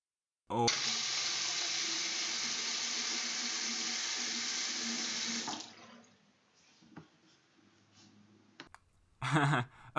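Items are washed under a running tap, a steady loud rush of water lasting about five seconds. It ends with clicks and brief handling noises, then a short second splash.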